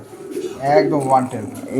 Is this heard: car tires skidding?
no